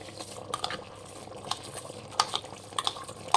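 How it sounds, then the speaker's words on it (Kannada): Soaked basmati rice being added to a pot for Chettinad chicken biryani, soft scattered pattering and a few light metallic clinks of utensil on pot, fairly quiet and close, with no voices. "ನಾನು ಬಾಸುಮತಿ ರೈಸ್ ಹಾಕ್ಕೊತಾ ಇದ್ದೀನಿ"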